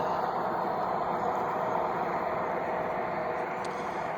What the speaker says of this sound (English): So this train's now going to be coming through Oakdale, and it's going to just proceed eastbound.